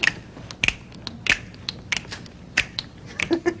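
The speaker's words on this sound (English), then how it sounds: "Snap your fingers." A run of crisp finger snaps comes close and loud in an irregular rhythm, about eight of them, with a faint voice in the background.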